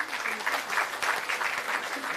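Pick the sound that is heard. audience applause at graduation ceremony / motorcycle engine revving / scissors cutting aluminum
audience applause at graduation ceremony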